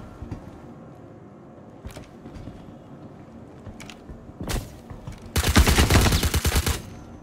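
Suppressed rifle gunfire in Star Citizen, scattered single shots followed by a loud sustained burst emptying a magazine near the end, with no talk.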